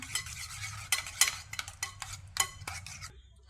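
Mashed banana and egg batter with chili powder and spices is mixed in a bowl, a series of sharp close spoon clinks and scraping knocks in an irregular rhythm, no voices.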